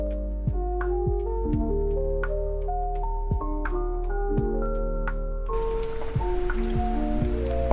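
Rain falls on a historic Edo-era street in Kawagoe, Japan, as a steady wet wash under clear, ringing chime-like tones struck in an uneven rhythm, with the hiss of the rain growing heavier and closer near the end.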